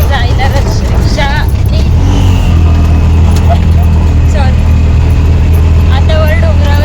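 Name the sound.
auto rickshaw climbing hill road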